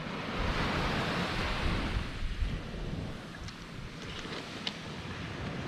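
Sea waves rolling onto the Lincolnshire coast as the tide comes in, a steady broad roar of surf close by, easing slightly midway, with no voices.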